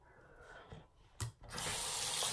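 Tap water runs over hands at a sink, a soft flow that breaks off briefly, then pours steadily and louder in the last second.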